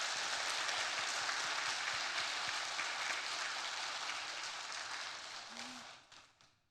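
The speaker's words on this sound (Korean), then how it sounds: "우리 한번 뜨거운 박수로 감사를 표하도록 하겠습니다." A church congregation gives sustained, dense applause that holds steady from the start, then fades out over the last second, with no voices above it.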